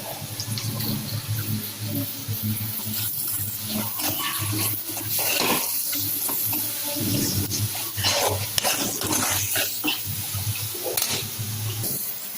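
Ginger, garlic and small-onion paste fries in hot oil for a Chettinad chicken gravy, giving a steady, dense hiss and sputter that runs throughout with no talking.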